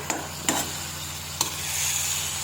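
Beetroot thoran cooking in a pan over a low flame, giving a quiet steady sizzle with a few sharp ticks and pops scattered through it.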